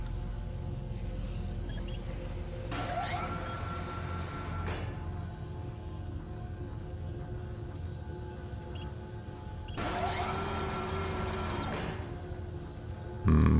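A lift moving through a level of the sci-fi horror shooter Doom 3, heard as a steady low mechanical rumble and hum with a few clanking bursts and a sharp thud near the end, no voices.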